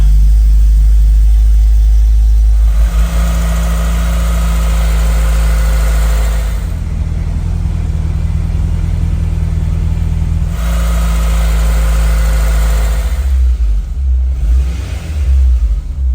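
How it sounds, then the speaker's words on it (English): A steady low car exhaust drone at low RPM with a deep resonant hum that rises and falls slightly as revs shift, loud and close, no talking. "We find it's got a resonance tone low down in the RPMs."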